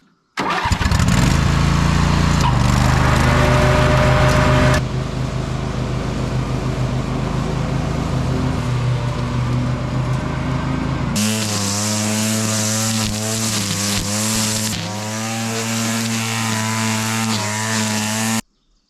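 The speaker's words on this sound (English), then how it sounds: "that was the first mow of the year" A lawn mower cutting grass on a homestead during the first mow of the year, a loud, close, continuous engine drone that holds steady and then shifts pitch and load partway through, with no talking.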